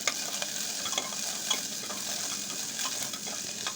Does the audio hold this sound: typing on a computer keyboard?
no